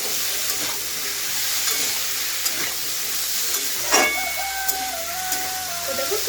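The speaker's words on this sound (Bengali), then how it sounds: "এরপরে খুব ভালোভাবে আবারও নাড়িয়ে চাড়িয়ে লবণটাকে মিশিয়ে নিচ্ছি।" Salt being stirred into an ash gourd and shrimp curry over a gas flame, a continuous close sizzle with scattered scraping stirs and faint clinks, no voices.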